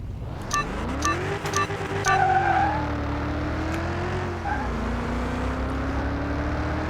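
A Chevrolet Corvette revs in the Car Mechanic 2021 racing game, its engine pitch sweeping up and holding steady, then dipping and rising again. It plays loud and continuous, with faint tire squeal in the mix and no talking.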